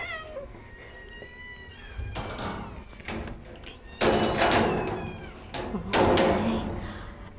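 A cat at an animal shelter meows repeatedly, several drawn-out calls spread across the span, some loud and close, with faint background knocks and room noise.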